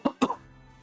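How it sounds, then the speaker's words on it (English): Two quick coughs close together from a nearby person during a gaming session, followed by low steady room hum. "Sorry, I was coughing."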